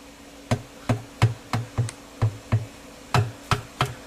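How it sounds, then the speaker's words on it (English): Steady series of about a dozen dull, solid dead blow hammer taps on a Mazda Protege automatic transmission oil pan, evenly paced and close by, with no talking. "Took a dead blow hammer here, put it in, and it's starting to come off"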